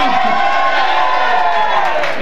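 A packed, sellout crowd at a Southern Maryland country dance show roars with loud, sustained cheering, whoops and shouts that fill the whole moment.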